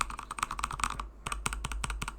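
Steady, close typing on a computer keyboard owned for six years, with quick clustered keystrokes, a brief pause midway, then another run of clacks, with no voices.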